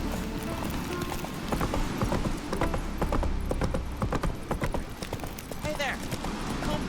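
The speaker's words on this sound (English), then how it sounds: "Whoa there, Roach" A horse's hooves clip-clop at a steady walking rhythm in The Witcher 3: Wild Hunt, close and clear alongside faint creaking tack, with a voice speaking intermittently.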